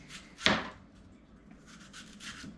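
A large kitchen knife cuts through apples, giving one sharp, crisp chop up close, followed by quieter scraping and rustling as the pieces shift.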